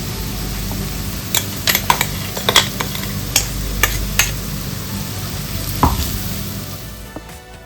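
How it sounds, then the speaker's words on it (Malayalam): Spice paste for a pumpkin and chickpea masala goes into a hot pan, with a steady sizzle and fry and a scattered series of clear scraping, stirring clinks of a spoon against the pan, close and fairly loud, with no voices. "ഇനി നമ്മൾ അരച്ചു വെച്ചിരിക്കുന്ന അരപ്പിട്ട് കൊടുക്കാം."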